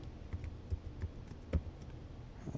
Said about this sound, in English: First I will just type in the PLT